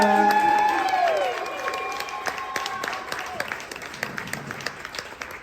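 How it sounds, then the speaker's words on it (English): A comedy show crowd in Oklahoma City claps and cheers as a comedian comes to the stage, the applause steady and full under a host's amplified voice, thinning slightly toward the end. "Big warm round of applause for my buddy, Ted Hamza."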